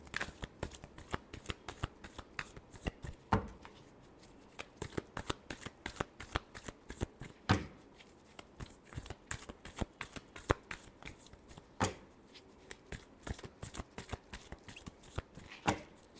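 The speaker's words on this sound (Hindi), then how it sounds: "last shuffle" Playing cards are shuffled repeatedly by hand, giving a long run of quick, crisp riffling flutters and snaps close to the listener, with brief pauses between bursts and no talking.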